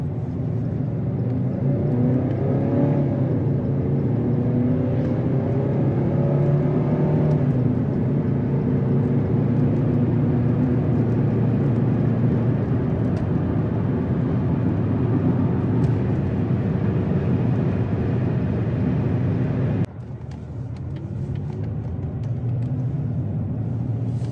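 A 2005 Subaru Legacy GT manual with a rough, chuggy idle and low power pulls away, its engine a steady loud rumble from inside the car, with rising and falling revs early on, then a sudden drop in level.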